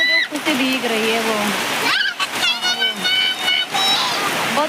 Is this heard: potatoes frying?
no